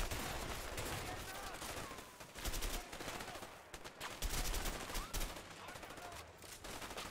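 Rapid bursts of gunfire from a weapon in the video game A Way Out, several volleys of quick cracking shots at moderate volume, with people talking over them.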